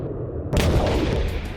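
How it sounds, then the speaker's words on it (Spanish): A sudden loud burst of gunfire and explosions cuts in after a moment of low rumble, continuing as a dense, crackling roar. "Era horrible, un tiroteo constante, explosiones constantes"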